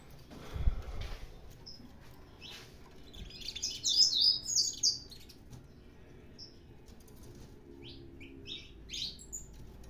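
A native canary, the canário da terra, gives short high chirps in a quiet indoor setting, with a brief cluster of calls in the middle and a few faint isolated notes around it.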